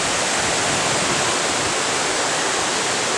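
Waterfall in Mexico with bright blue water, a steady, loud broadband rush of falling water filling the scene throughout, with no voices.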